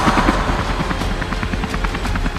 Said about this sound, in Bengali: আরে আমার জন্য কেন হেলিকপ্টার আনছেন আপনারা?